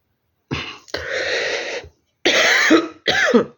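Several harsh, raspy coughs come in bursts close to the listener, separated by short pauses.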